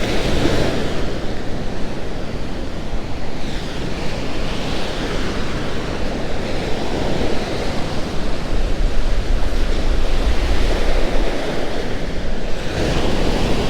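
Waves of the Ionian Sea wash in a loud, unbroken roar of surf, heavily mixed with gusting wind buffeting the microphone, with no talk.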